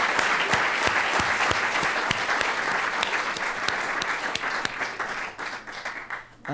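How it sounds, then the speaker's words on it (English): An audience applauds panelists at the close of a panel discussion on New York State's distributed utility system vision, steady dense clapping that runs throughout and thins out near the end. "So a round of applause, hopefully, for our panelists."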